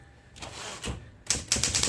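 A Smith-Corona Korean Hangul typewriter handled during reassembly: close metallic clicks and clatters in two bursts, a softer rattling stretch followed by a sharper cluster of knocks, with no talking.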